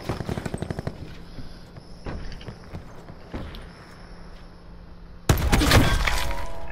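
Video game gunfire, rapid bursts of close, sharp shots at the start, then scattered single reports and a sudden loud, dense volley near the end, no talking.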